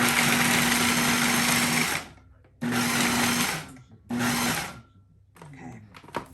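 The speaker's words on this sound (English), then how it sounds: "We're gonna grind this up a little bit more before we add the butter" A food processor grinds nuts for a gluten-free nut crust in a home kitchen, its motor roaring in three separate bursts that grow shorter, with short quiet gaps between them and a little clatter at the end.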